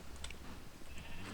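In Minecraft, sheep give soft, faint bleats over a steady low background hum, with no talking.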